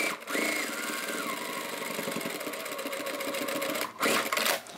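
Sewing machine stitching across the boxed corners of a fabric bag, a steady close, loud whirring run for nearly five seconds with a short pause and a brief burst near the end, no talking.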